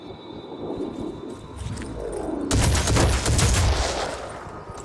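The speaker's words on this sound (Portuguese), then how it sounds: "Mais tiro nos cara velho." Gunfire in the tactical strategy game Phoenix Point: a sudden loud burst of rapid shots about halfway through, following a quieter stretch of low rumble. No one speaks.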